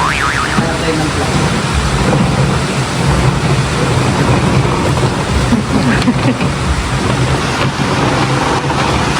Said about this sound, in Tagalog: Nakainalakas na din ang hangin at ulan